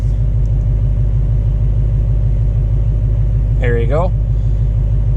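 A manual Dodge Hellcat engine rumbles loudly and steadily up close while it is readied with launch control, the deep drone continuing unbroken as a person speaks briefly.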